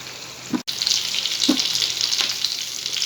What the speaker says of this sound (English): We'll fry them till both the sides are light golden brown in color.